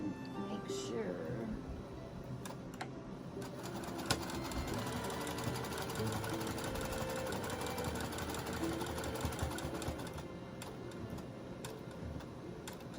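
A sewing machine stitches slowly through thick fabric on a large shopping bag, running in a steady, continuous mechanical patter up close, with a faint voice underneath.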